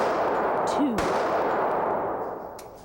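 A domestic-violence shooting inside a home, heard as one sharp, loud gunshot-like bang about a second in, ringing briefly over steady room noise, with a fainter thud near the end.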